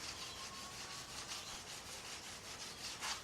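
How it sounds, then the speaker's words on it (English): A cloth rubbing orange tung oil into wood, a soft steady back-and-forth scrubbing friction with rhythmic swells, close and quiet. "Rub it in, burnish it in"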